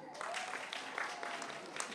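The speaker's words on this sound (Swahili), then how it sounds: "Makofi mengi." An audience claps at a political rally in Tanzania, a dense, steady wash of applause at moderate distance with a voice speaking over it.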